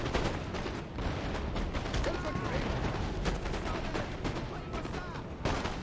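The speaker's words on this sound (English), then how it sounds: "I think the cannons actually hit my cav there." Cannon and musket fire rattle in a Napoleon: Total War battle. Repeated sharp reports crackle and boom, some overlapping, at a moderate level in the distance, with a voice speaking over parts of it.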